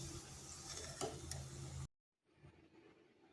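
Flattened-rice poha cutlets fry in a pan with a steady, soft sizzle and occasional scrape of a utensil, cutting out abruptly and returning quieter after a brief silence.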